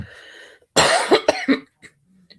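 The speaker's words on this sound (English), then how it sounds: "this is not the first time having this kind of cough" A harsh burst of coughing from a recurring cough, several rough coughs in quick succession after a moment of quiet, close by, then a faint throat sound.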